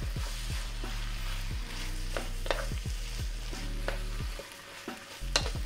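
Beef sizzling loudly as it is stir-fried in a wok for beef with onions, with repeated sharp scraping and tossing strokes of a utensil breaking through a steady frying hiss, no voices.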